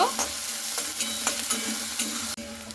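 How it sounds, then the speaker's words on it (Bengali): Chopped onions fry in hot mustard oil in a wok, a close steady sizzle punctuated by rhythmic stirring scrapes about twice per second, with no talk. "তেলটা গরম হয়ে গেলে দিয়ে দিচ্ছি কেটে রাখা পেঁয়াজগুলো। এরপরে পেঁয়াজটা আমি লাল লাল করে ভেজে নেব।"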